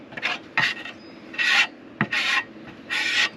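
A floor trowel scrapes wood glue across a wooden surface in about six short, rasping strokes, each a gritty burst separated by brief pauses, close and fairly loud.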